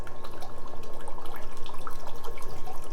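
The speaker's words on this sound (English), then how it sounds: "So just in and out, poke the roots. Rinse them real good." Running water rinses the roots of a young olive tree, a steady close splashing and trickling with a gently pulsing rhythm and no talking.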